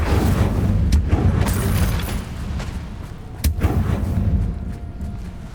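Incendio, a fire spell cast in Hogwarts Legacy, bursts out as a few sharp cracks and booming impacts over a steady low rumble of game sound.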